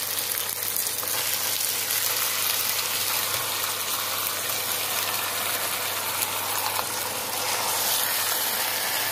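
Marinated chicken pieces for a Bengali-style chicken korma frying in a pan, a dense, steady hiss and sizzle that stays loud and even throughout, with no talking.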